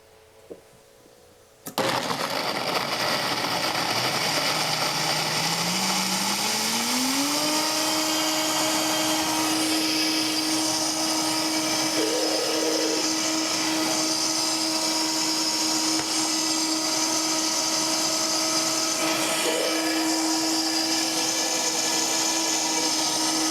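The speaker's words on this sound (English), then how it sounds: "Now I'm going to blend this and we're going to make a macadamia nut and coconut yogurt." A blender whirs steadily after a switch-on click, blending macadamia nuts and coconut for yogurt, with a rising motor pitch that settles into a loud constant hum.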